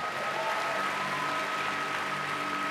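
Congregation clapping during a lively church worship service, a steady wash of applause mixed with sustained music tones, heard at a moderate distance with no clear talk.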